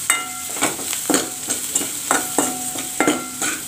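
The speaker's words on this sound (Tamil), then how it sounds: "வெங்காயம் நல்லா வதங்கிக்கிட்டோம்." Onions sauté and sizzle in hot coconut oil with turmeric for a country crab soup, with a steady frying hiss broken by repeated scraping stirs about every half second.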